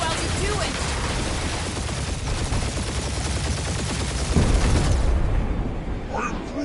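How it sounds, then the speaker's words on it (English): Sustained gunfire raking a spaceship in the Guardians of the Galaxy game: a dense, loud, continuous clatter of shots and impacts that ends with a heavier thud before fading into quieter ship noise. "We're taking fire!"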